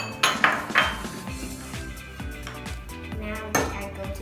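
A utensil stirs baking ingredients, including a pinch of salt, in a bowl, giving close clinks and scraping knocks against the side in an uneven rhythm.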